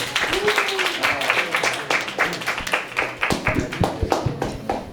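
Scattered applause at a youth church service as the student council president comes up, individual claps sounding out in uneven bursts, with voices talking over the clapping.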